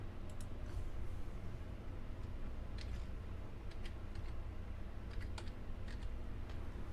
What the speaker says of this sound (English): Here, I'll just type it in real quick.